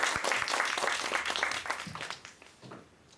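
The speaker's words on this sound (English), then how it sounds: "We could give him a round of applause." Clapping from a workshop audience welcoming a presenter, a dense patter of many hands that holds steady and then thins and fades out toward the end.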